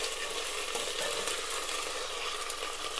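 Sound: ginger and garlic paste frying with onions

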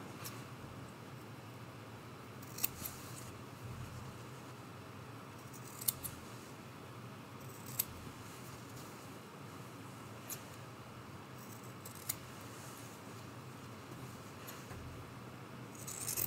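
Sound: scissors trimming fabric seam allowance

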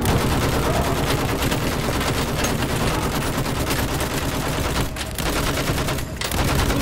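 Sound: machine gun fire in the video game Battlefield 1

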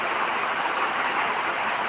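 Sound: heavy rain on a tin roof

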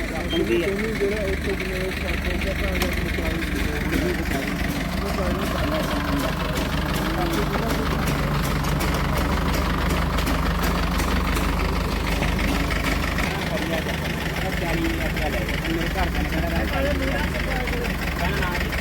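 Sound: motorcycle engines idling

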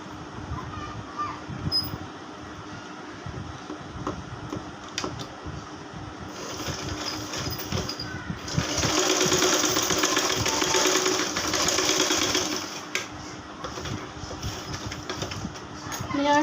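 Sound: sewing machine stitching a child's frock

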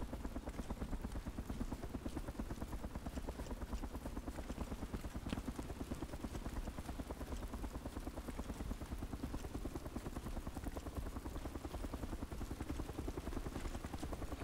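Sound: helicopters flying, from a video game

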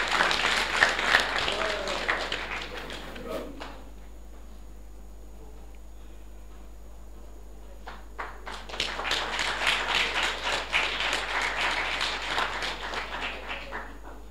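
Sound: audience applause at a graduation ceremony

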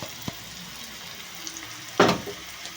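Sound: masala paste frying with bitter gourd in a pan

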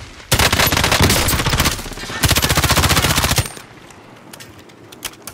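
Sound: gunshots in Call of Duty Warzone video game

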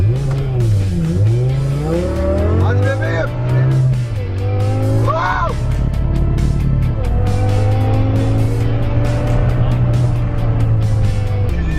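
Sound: supercar accelerating hard in M mode speed test

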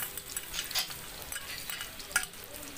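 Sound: garlic frying in hot oil for Bicol express

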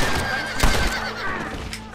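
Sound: horse whinnying in video game Red Dead Redemption

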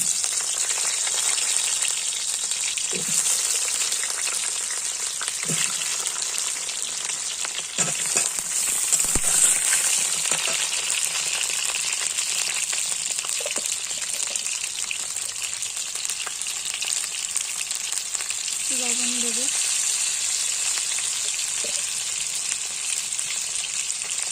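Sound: potatoes frying in hot oil

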